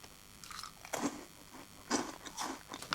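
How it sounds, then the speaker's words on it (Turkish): Caramel popcorn is bitten and chewed up close, giving a few sharp crunchy bites and crackling chews in uneven bursts, quiet and without any talking. "Sıradaki karamelli popcorn. Bunu deneyelim."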